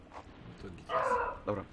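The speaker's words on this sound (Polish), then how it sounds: "Sorry za psa." A dog barks a few times in a home while people chat in Polish, the barks loud and close, one longer burst followed by a shorter one.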